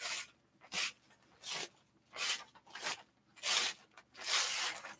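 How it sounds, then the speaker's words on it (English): An appliqué pressing sheet is peeled up from fused fabric while sewing slippers, giving a series of quiet, crinkly tearing rasps in short repeated bursts with brief pauses between. "let's just very carefully peel up that applique pressing sheet so it doesn't disturb this end that's not fused"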